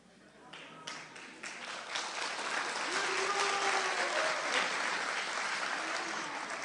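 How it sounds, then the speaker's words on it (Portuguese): An audience breaks into applause at a corporate presentation, clapping swelling from scattered claps into steady, dense applause that holds to the end, with a voice faintly underneath. "Agora vem o momento das palmas"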